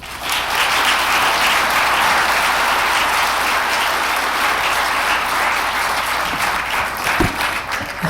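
Sustained audience applause at a Hofstra Northwell physician assistant studies white coat ceremony, loud and steady throughout as a large crowd claps to welcome a speaker.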